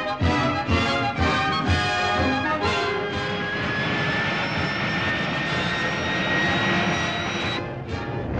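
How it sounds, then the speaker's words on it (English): Avro 707B, the small experimental delta-wing research jet, flies past with a loud, steady jet-engine roar and rising whine that holds for several seconds before easing slightly, with no voices over it. "Known as the Flying Triangle because of its delta wing formation, the plane is an experimental research machine"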